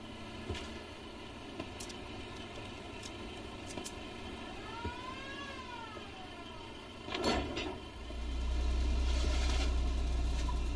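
An ambulance siren in the video game Foxhole, a faint wailing sweep rising and falling briefly midway through, over a low background hum and engine rumble that swells near the end.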